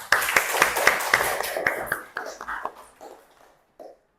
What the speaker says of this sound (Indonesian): Tepuk tangan dulu untuk kawannya